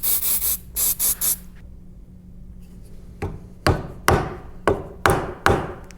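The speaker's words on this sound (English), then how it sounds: "I'll use some CA glue and accelerator. So CA glue into the hole, and then I'll put accelerator on this piece." Several short sprays of CA glue accelerator onto a piece of a three-piece bow limb, first a quick cluster of close bursts, then a pause, then sharp spaced taps and hisses.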